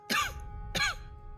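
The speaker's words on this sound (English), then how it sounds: "She lets loose with another fit of coughing, loud enough this time to echo in the small dwelling." A woman coughs in the video game Pillars of Eternity II: Deadfire, two sharp close hacking bursts in a small dwelling, alone against a quiet background hum.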